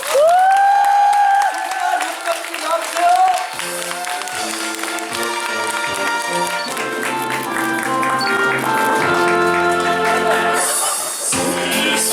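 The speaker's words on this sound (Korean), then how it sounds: "관객 여러분 뜨거운 박수 한번 보내주세요." An audience claps and cheers through the curtain call of the Korean musical '난쟁이들', the applause sustained and loud beneath music played on stage.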